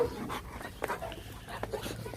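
A dog pants in quick, breathy bursts close by, with a few soft whimpers mixed in over about two seconds.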